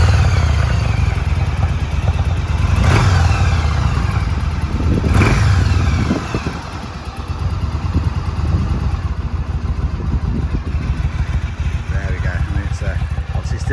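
A 2007 Yamaha XVS 1100 Drag Star Classic motorcycle engine, still slightly cold, runs loud and close, revving in two sharp bursts before settling into a steadier rumble with some mechanical clatter.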